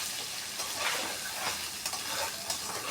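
A cashew and ginger paste sizzles steadily in a hot pan as it is stirred, a continuous soft hiss and crackle with a few faint scrapes, fairly quiet and close with no voices.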